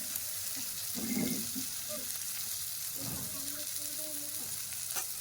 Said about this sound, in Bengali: দিয়ে এটাকে ভেজে নেবো ভালো করে